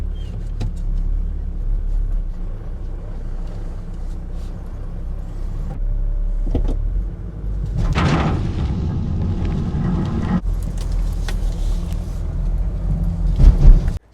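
Nissan Patrol engine working as it pulls an old 60-year-old 6x6 International army truck out of the bush, a low rumble that swells around the middle with some clunks toward the end.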